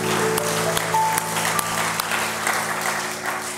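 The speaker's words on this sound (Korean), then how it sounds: "환영의 박수 하겠습니다" Church congregation applauding in welcome at a Sunday morning worship service, steady dense clapping throughout, fairly close and full, with a faint low hum beneath.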